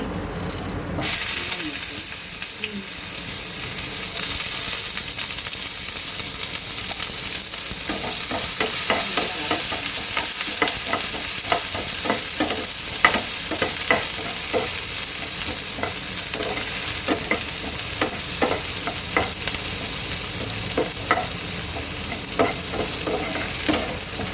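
Dried red chillies frying in hot oil for drumstick leaves poriyal, a steady loud sizzle with repeated stirring scrapes throughout, no talking.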